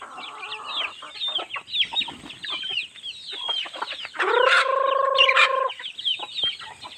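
Chickens cluck in rapid, overlapping bursts close by, and a rooster lets out one loud, drawn-out crow midway before the clucking carries on.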